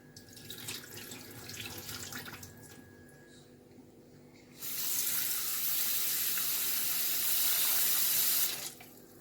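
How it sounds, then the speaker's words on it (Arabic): Tap water pours into a dish while mullet roe is washed, first a softer trickle with handling noises, then a strong steady splashing stream for several seconds that stops abruptly near the end. "انا بخلي الميه تنزل في الطبق واكبها تاني"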